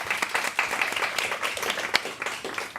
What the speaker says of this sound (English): a huge applause for all three of us